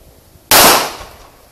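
A single loud gunshot cracks sharply after a quiet moment and then decays over about a second in an outdoor shooting drill, with no voices during the shot.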